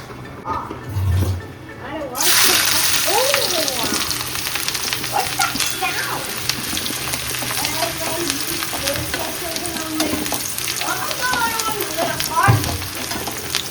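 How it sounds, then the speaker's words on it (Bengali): Onions sizzle loudly in hot oil in a pan after a sudden start, frying toward golden brown for biryani, a continuous crackling hiss with someone speaking over the frying. "এবার পেঁয়াজটাকে ভাজা করতে হবে গোল্ডেন ব্রাউন"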